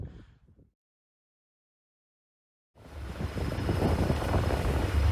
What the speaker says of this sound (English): Very windy. It's very windy.